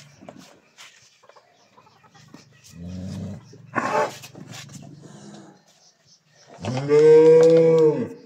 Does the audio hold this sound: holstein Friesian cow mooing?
yes